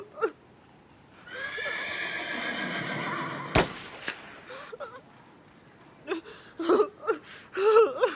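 A wounded horse in an Irish radio drama lets out a long, loud, wavering whinny that breaks off into a sharp crack, followed by scattered gasps and short moans close by.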